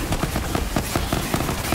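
Rapid crackling bursts of fireworks in the video game Borderlands, a dense run of popping bangs repeating fast and loud across the moment, with no talk over them.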